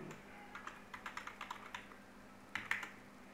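Keys tapped on a computer keyboard while a password is entered, a quick run of about ten light clicks, then a short pause and a couple of firmer strokes, close and faint, no talk.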